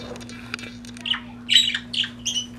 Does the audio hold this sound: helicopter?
no